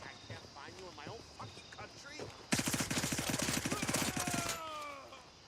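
Gunfire in Gray Zone Warfare as a rifle is fired from the hip, emptying a full magazine in one long rapid burst of about two seconds. Voices chatter beforehand, then the shots ring out loud and close.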